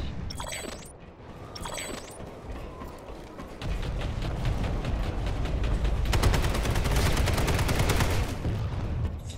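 Video-game gunfire from a light assault class, with brief mechanical clicks followed by sustained rapid automatic fire, loud and dense, close up with no voices.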